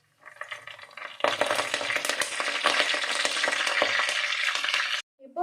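Curry leaves dropped into hot oil with fenugreek and fennel seeds for garlic kulambu, erupting into a loud, crackling sizzle after a quieter start, sustained for several seconds before cutting off abruptly.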